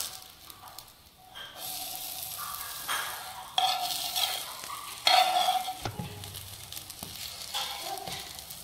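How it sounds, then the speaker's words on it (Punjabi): A healthy snack made without flour or semolina sizzles in a pan over a medium flame as its sides are roasted, frying crackle rising and falling with stirring and scraping movements, close by and with no voices. "ਹੁਣ ਐਵੇਂ ਕਰਕੇ ਨਾ ਥੋੜ੍ਹੇ ਥੋੜ੍ਹੇ ਸਾਈਡਾਂ ਵੀ ਸੇਕ ਲੈਣੀਆਂ"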